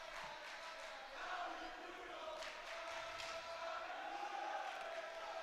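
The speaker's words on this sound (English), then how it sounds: "the Frisch crowd is up to a chant of Howie Rudolph supporting their goalie" A home crowd at a varsity high school hockey game chants steadily for its goalie, a sustained rhythmic roar heard from a distance, filling the arena.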